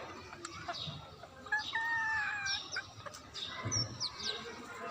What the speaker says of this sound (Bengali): আর এদিকে আমার মুরগিগুলো, ফার্মি মুরগি, টাইগার মুরগি।